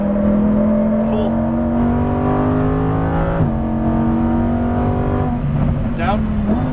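A 2018 Lamborghini Huracan Performante at full throttle, its engine note climbing steadily through the revs with sharp drops at gear shifts, loud and close, with a voice speaking over it.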